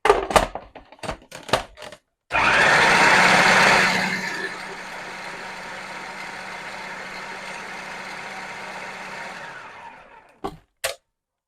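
A kitchen blender whirs through a liver pâté mixture with a teaspoon of salt added, starting with a loud high-pitched burst for about two seconds, then settling into a steadier lower motor hum, framed by a few clicks and knocks before and after.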